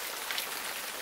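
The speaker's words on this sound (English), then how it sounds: "You know it's raining, right?" Steady rain falls across a broad, even hiss of many drops on surfaces, loud and close for the whole second with no voices.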